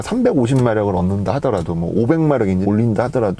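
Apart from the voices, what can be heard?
None of the usual background noises is heard.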